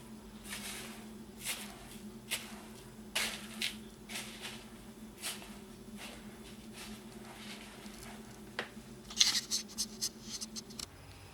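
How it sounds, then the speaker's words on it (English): Dry bread ingredients and seeds are stirred in a bowl, making soft, close scraping and rustling strokes in an uneven rhythm over a low background hum, with a few sharper rattles near the end. "After you weigh out all your dried ingredients, just give it a stir."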